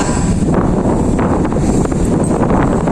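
Strong wind gusts across a seaport with moored boats, a loud steady roar buffeting the microphone throughout, with no voices.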